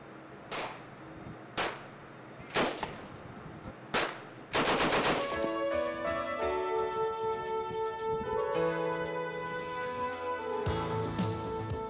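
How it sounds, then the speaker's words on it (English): Gunfire at sea during Indian Coast Guard shooting practice: four sharp, spaced single shots, then a long continuous rattling burst of rapid automatic fire, loud and close. "it is gainfully utilized by the personnel to practice and hone their shooting skills"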